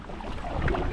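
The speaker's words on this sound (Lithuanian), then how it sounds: "Pakilo vėjas, pradėjo lyti" Strong wind buffets the microphone on a rainy kayaking trip, a continuous rough, loud roar with slight swells and no voices.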